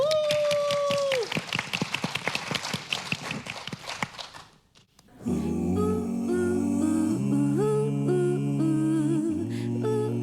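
Applause from a talk-concert audience, a dense patter of many hands over a sustained voice for about four seconds, fading out before music takes over.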